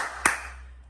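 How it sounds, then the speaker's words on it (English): A single sharp hand clap rings out near the start, loud and close, then fades over a low steady background hum. "But if we clap our hand like real loud"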